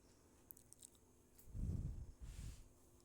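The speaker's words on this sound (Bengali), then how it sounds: "এবার মাছগুলো দিয়ে দিচ্ছি।" Pieces of katla fish slide into a pot of boiling water, making a soft, close squishy plop and splash that lasts about a second, followed by a smaller second plop over quiet background.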